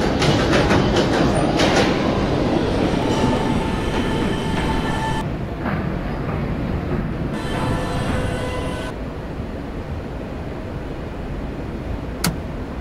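A subway E train bound for Halson Terminal rumbles along with a steady roar and clickety-clack, loud and continuous, easing slightly toward the end.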